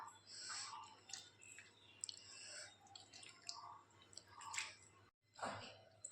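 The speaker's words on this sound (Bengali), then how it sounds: "এই ময়দাটাকে যতক্ষণ সাদা জল না বেরোবে ততক্ষণ আমি ধুয়ে নেব" Flour dough being washed by hand in water, with soft wet squishing, sloshing and dripping throughout, quiet and close, a brief pause near the end before the squelching resumes.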